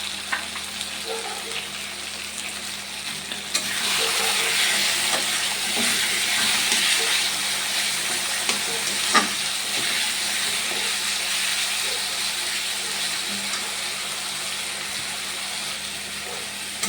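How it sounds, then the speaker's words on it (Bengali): Tomatoes fry in a pan, salted and stirred, giving a steady bright sizzle. It grows louder after a few seconds, with occasional clicks and scrapes from stirring. "নাড়াচাড়া করতে হবে, না তো কাঁচা গন্ধ যাবে।"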